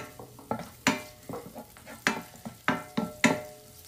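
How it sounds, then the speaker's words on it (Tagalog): Garlic sautés in hot oil in a pan for pansit sotanghon, crackling and sizzling under a series of sharp scraping stirs from a utensil, close and clear with no voices. "At ilalagay na natin ang ating igigisa. Bawang ang unahin."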